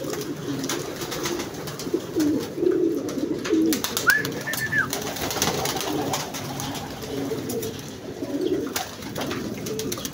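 Pet racing pigeons coo in a few soft, low calls over a steady outdoor background hum, moderately near and spaced out across the stretch.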